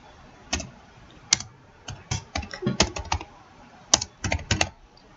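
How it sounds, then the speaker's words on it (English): Typing on a computer keyboard, irregular bursts of close, crisp key clicks with short pauses between them, alone without voices. "if that's the day that I'm typing the essay"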